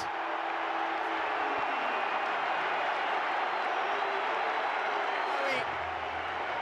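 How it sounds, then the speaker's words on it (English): A stadium crowd roars and cheers after Toulouse score a late winning goal against AS Roma, a dense, sustained wash of crowd noise that stays loud throughout, with a commentator talking over it. "Sends the crowd wild."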